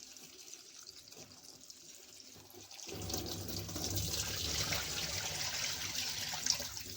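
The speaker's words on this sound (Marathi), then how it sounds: "पहिल्यांदा आता मग भाजी धुवून घेतो" Wild leafy vegetables being washed in water, starting with a quiet trickle and then a fuller, steady splashing and running-water wash partway through, close by with no speech.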